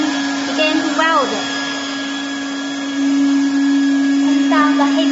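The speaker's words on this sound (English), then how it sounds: "Turn down the heat gun." Heat gun on a TOP2000D welding machine blowing hot air, a steady, loud whoosh with a constant hum running the whole way, swelling slightly louder partway through, with brief chirps on top.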